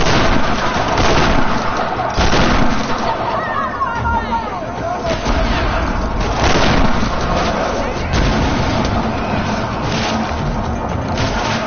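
Video game gunfire sounds as rapid bursts and booming shots, dense and loud throughout, with voices and crowd-like babble mixed underneath.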